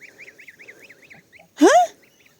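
A goose gives a loud, single honk after a run of softer rhythmic calls, close and clear against a quiet background.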